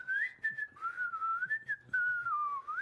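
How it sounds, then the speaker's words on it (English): A continuous, wobbly whistled melody with gliding pitch, close and moderately soft, carries on for a few seconds with no speech. "I don't whistle, but I can whistle better than that."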